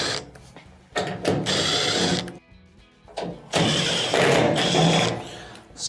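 A power tool backs out three 1/4-inch screws from the rear of a washer's top panel, giving several loud whirring bursts separated by short pauses.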